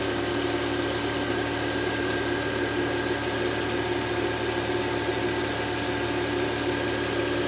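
A Land Rover LR2 (Freelander 2) engine idling with the AC on max cold and recirculation, the compressor clutch not engaged; a steady, even, continuous drone with no talk.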